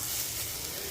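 Aloo chop filling fries in a pan for a Bengali snack, giving a steady, soft sizzle and hiss that stays even and fairly faint through a brief moment.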